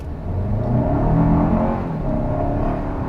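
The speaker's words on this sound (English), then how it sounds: "let's do another acceleration run here." A 2023 Toyota Highlander Limited with a four-cylinder engine accelerates hard, its engine note rising steadily through about three seconds, heard from inside the cabin with no talking.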